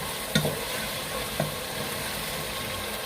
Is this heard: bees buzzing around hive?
no